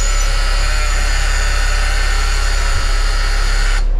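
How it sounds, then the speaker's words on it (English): A loud, harsh electric buzz from an old-school school bus buzzer drones steadily for several seconds, then cuts off abruptly near the end. "Old school buzzer."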